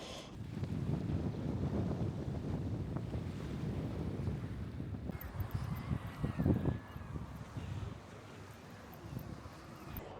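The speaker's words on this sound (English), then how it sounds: "it is so windy down here at the seafront." Strong wind on stony Dover Beach at the seafront. A continuous loud roar of gusts buffets the microphone, with surf faintly beneath and a brief louder gust midway.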